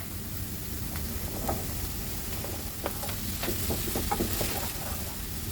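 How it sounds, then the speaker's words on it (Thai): Onion and bell pepper stir-frying in olive oil for shakshuka, with a steady sizzle broken by repeated stirring clicks and scrapes from a utensil, no speech. "เราก็จะคนคนคั่วๆไป เรื่อยๆนะคะ จนกระทั่งตัวพริกหวานเนี่ยอ่อนตัวลงค่ะ"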